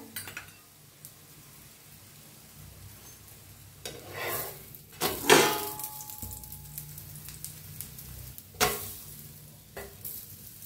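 Corn dhapata flatbread roasts on a hot pan, turned to cook both sides: a quiet background sizzle with a few sharp scraping and clattering bursts from the utensil and pan.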